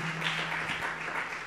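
Church congregation applauding during a sermon, a steady rustling wash of many hands clapping throughout the short stretch, with a low steady hum underneath.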